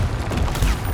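A Confringo fire spell bursts in Hogwarts Legacy, a dense, booming crackle of blasts that fills the whole second at close range and full loudness.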